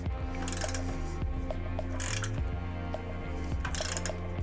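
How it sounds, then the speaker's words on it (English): A ratchet tightening bolts on a Kawasaki Vulcan S motorcycle during a Denali Soundbomb horn install, sounding as a steady run of close, rapid mechanical clicking that swells in bursts over a low background hum. "Now we can just tighten these bolts up."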